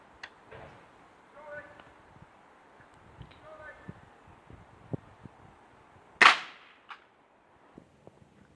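An air rifle firing at a pumpkin outdoors: one sharp, loud crack stands out partway through, among quieter clicks and handling noises, with someone talking before the shot.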